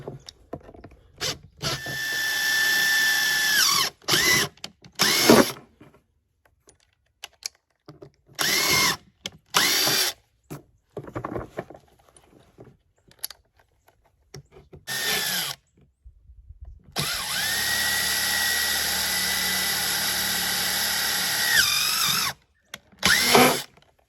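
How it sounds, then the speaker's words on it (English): A power drill bores holes around a plastic chicken feeder container in repeated bursts of whirring, each run rising steadily then cutting off, with pauses between and a long sustained drilling pass near the end. "I got my holes drilled all the way around. Got a few at the bottom for drainage."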